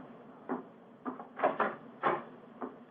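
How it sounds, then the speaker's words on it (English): A front door is opened with a series of dull wooden clunks and knocks, about six separate thuds spaced unevenly at moderate volume in a quiet room. "Mrs. Hudson's opening the door to him now."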